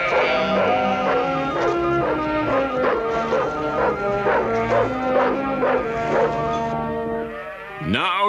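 In a Smurfs cartoon episode set in the Wild West, a puppy barks in a rapid, rhythmic string of loud yips over a bouncy music bed, ending with a sliding whistle-like tone.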